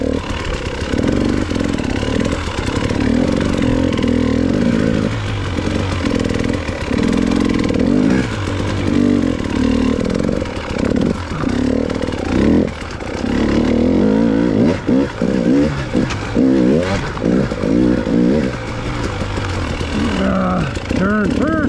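KTM motorcycle ridden hard over an exceptionally rough training track, its engine droning and revving up and down continuously as the bike bounces along, loud and close, with a rider's voice talking over it.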